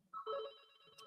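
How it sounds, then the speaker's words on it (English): A home telephone rings in a house, a short electronic ringing burst heard faintly and alone, with no talking over it. "I'm at my in-laws' house and the phone rings"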